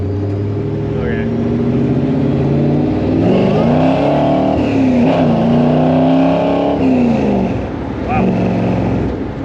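Supercharged 1955 Chevrolet Nomad gasser pulling hard at half to three-quarter throttle, a loud, close, rising engine roar that swells and dips through the gears, with an occupant exclaiming over it.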